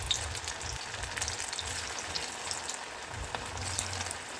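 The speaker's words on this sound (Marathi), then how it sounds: "एक वेळेस बसतील तेवढ्या अळूवड्या आपण कढईमध्ये टाकणार आहोत" Alu vadi, rolls of colocasia leaves, frying in hot oil in a kadhai over a medium flame, a soft, steady sizzle with faint bubbling crackle, fairly quiet and without talk.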